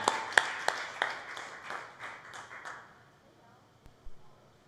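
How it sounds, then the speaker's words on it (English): Audience applause and scattered claps at an outdoor benefit concert for the Replant the Forest festival, greeting a singer; a burst of clapping that fades out over a few seconds, fairly distant and crowd-like. "Everyone give a big round of applause."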